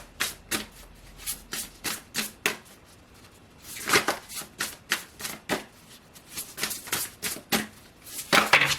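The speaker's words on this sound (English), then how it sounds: "Let's shuffle." Tarot cards are shuffled by hand in a run of quick crisp riffles and taps, close up and fairly quiet, with no talking.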